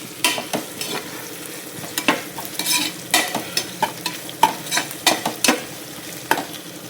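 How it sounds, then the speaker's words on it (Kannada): Grated ginger frying in hot oil, a steady sizzle with a run of repeated scraping stirs from a spatula, close and clear with no voices. "ಎಣ್ಣೆಲಿ ಚೆನ್ನಾಗಿ ಫ್ರೈ ಆಗಲಿ."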